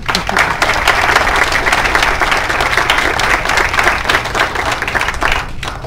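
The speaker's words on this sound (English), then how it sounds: "I think we can applaud for that too" Sustained applause from a reception crowd honoring a visiting family, dense steady clapping at close range that holds for several seconds before easing slightly at the end.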